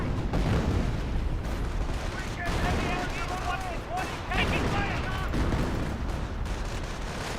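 A World War II battle in Company of Heroes fills the scene with a dense mix of MG42 machine-gun bursts, rifle shots and booming artillery. The noise is loud and continuous, and in-game voices call out over the din.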